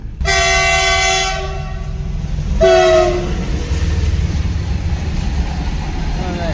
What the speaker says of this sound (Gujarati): ટ્રેન આવે ટ્રેન